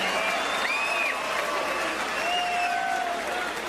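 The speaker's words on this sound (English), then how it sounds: "Give both of these fighters a tremendous round of applause" Boxing arena crowd applauding the fighters after a bout, a broad sustained wash of clapping and cheering with a few whistles rising above it, steady and fairly loud.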